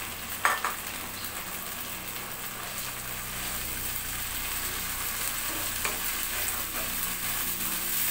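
Ginger, garlic, cumin and red chilli paste sizzles and fries steadily in a pan while a utensil stirs it, with a couple of faint scrapes, a continuous close crackling hiss throughout.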